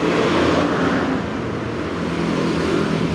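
A 2014 Yamaha Mio F1 motorcycle engine runs loud and steady at idle, a close continuous rumble filling the whole clip with no voices over it.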